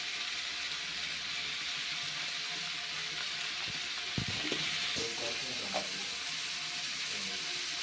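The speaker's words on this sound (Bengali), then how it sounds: "আলুটা দিয়ে এটার সাথে খুব ভালোভাবে কষতে হবে।" Potatoes frying with ground spices in a pan: a steady, dense sizzle throughout, with a few faint stirring scrapes and clinks partway through.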